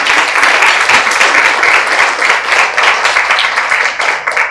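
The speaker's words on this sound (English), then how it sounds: "That deserves a round of applause" Audience round of applause at a talk honoring an Australian Olympic rugby player, a dense, steady wash of many hands clapping that holds loud and even for the full length.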